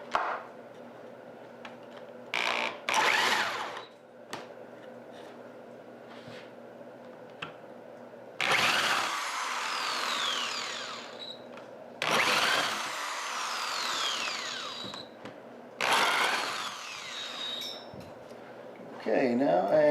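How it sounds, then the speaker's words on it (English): A power drill recesses bolt holes in a scrap-wood shelf, several separate whining bursts of a few seconds each between quieter pauses, close up, with a person talking in the background. "I also want to recess the holes for the bolts going into the shelf"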